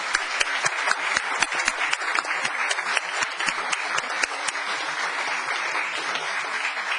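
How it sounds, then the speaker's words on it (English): Attendees at a town council meeting applaud in a room, with sustained, crisp clapping from a modest crowd that carries on evenly for several seconds. "So let's have some applause now."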